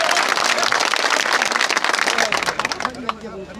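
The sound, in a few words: applause welcoming a speaker at a rally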